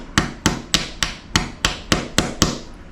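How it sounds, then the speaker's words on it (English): Hammer strikes during work on a baby alligator taxidermy mount, nine sharp, evenly spaced blows in quick succession, close and loud with no voices. "I think I'd have a better hammer for this, but here we are."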